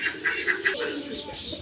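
Short pigeon calls repeat a few times in quick succession, close by, followed by soft fluttering and rustling.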